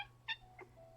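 A cat gives two short, faint meows in quick succession indoors, with a low steady hum beneath.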